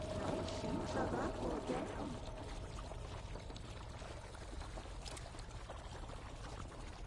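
Splashing and sloshing water in a dark, flooded area of a video game as a character struggles in the water, a steady wash of pouring and churning sound with faint voices underneath.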